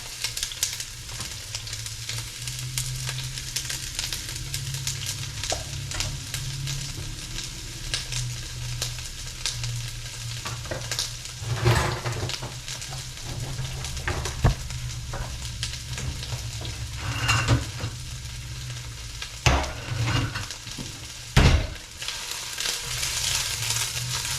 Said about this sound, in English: I've got my hot pot with my oil over here, so all I'm gonna do is add in these onions.